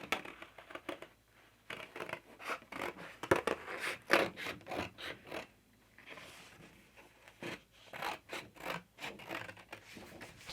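Scissors cut through material for a mixed media canvas piece, producing close, quiet snipping and scraping in irregular bursts with brief pauses between strokes.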